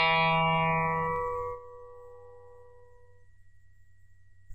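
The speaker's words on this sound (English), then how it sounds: "if you gently pluck the first guitar on string number 3," A single guitar string, the third, is gently plucked once and left to ring, its quiet tone fading steadily over a few seconds into near silence.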